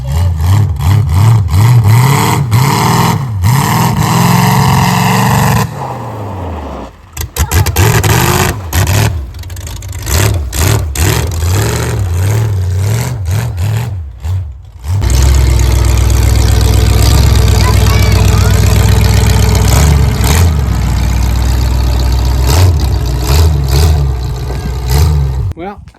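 A Camry build car's engine runs loud and close during a test drive, idling and repeatedly revving up and down, briefly cutting out midway before returning as a steady, heavy drone.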